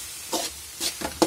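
A spatula stirs spice masala frying in a pan for spicy restaurant-style mutton tripe fry, giving a few short scraping strokes over a soft sizzle.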